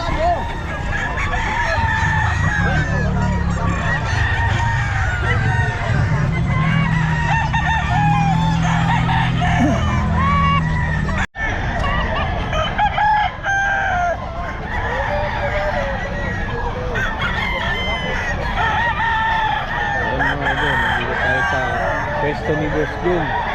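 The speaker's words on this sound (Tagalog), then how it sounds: "Marami pang mga manok." Roosters crow and chickens cluck throughout a busy Philippine pet market in Bocaue, loud and continuous beneath people talking nearby, with a brief dropout midway.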